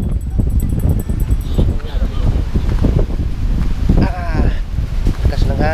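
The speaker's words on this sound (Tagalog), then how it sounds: "Lakas ng hangin mga bay." Strong wind sweeps a rocky beach, a loud, steady rushing roar buffeting the microphone while voices talk over it.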